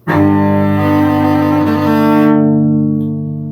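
A bowed cello sounds a sustained double stop from Bach's Minuet I, Cello Suite No. 1, rich and resonant, up close, then the tone fades away.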